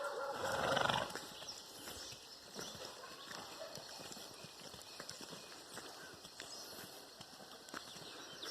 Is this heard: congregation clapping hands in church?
no